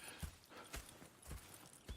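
Horse hooves clip-clop at an unhurried walk in the Red Dead Redemption 2 video game, a few soft, moderately close thuds spaced out across a quiet background.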